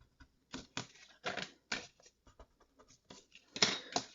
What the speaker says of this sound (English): I'm going to stop for a second here and just erase my little pencil marks.